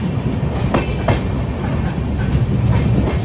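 Konkan Railway Sindhudurg Express heard from inside a general-class coach during the monsoon, a loud continuous rumble of the running train with clickety-clack wheel beats over rail joints and a few squeaks.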